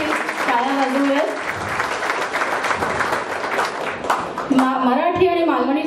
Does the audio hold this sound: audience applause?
yes